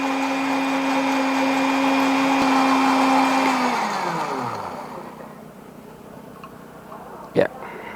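An electric blender grinds garlic with a loud steady whir, then winds down and stops about halfway through, followed by a single short knock.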